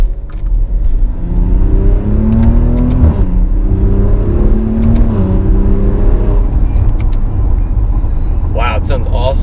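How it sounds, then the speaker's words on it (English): A Maserati SUV's turbocharged V6 revs hard in sport mode, loud and close, with rising and falling engine tones across repeated pulls and a turbo spooling up, while people talk over it. "it has that really nice V6 scream out of it. You can hear the turbo spin up a little bit"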